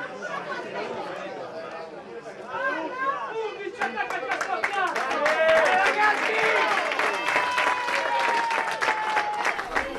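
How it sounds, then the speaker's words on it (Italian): A home crowd at the Pietro Secci ground rises to its feet to applaud the home player during the Ilva Maddalena v Borore football match, with steady clapping and chatter swelling loudly under continuous commentary. "il pubblico del Pietro Secci si alza tutto in piedi ad applaudire il giocatore di casa"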